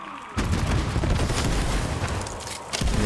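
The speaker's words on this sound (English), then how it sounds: "Yeah, that was definitely the turret." Turret gunfire in a wacky first-person shooter game, a dense continuous burst of rapid booming shots that sounds loud and close and carries on throughout with no voices.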